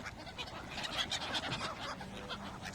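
Seagulls and ducks crowd a pond in Preston, Lancashire while being fed, giving a busy, continuous chorus of squawks, cries and calls overlapping at close range.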